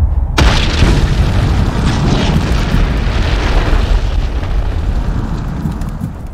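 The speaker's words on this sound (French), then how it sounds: "Je me demande rapidement si je vais faire un tour ici et que je lâche une bombe." A bomb explodes in the Ultimate Epic Battle Simulator video game, with a sudden loud boom that trails into a long rumbling, crackling roar fading over several seconds.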